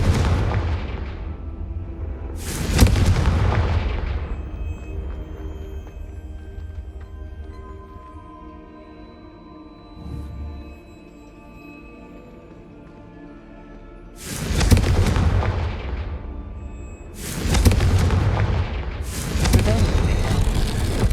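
Explosive booms from the Confringo fire spell in the Hogwarts Legacy video game: three loud blasts with long ringing tails, one early and two close together near the end, separated by quieter game ambience.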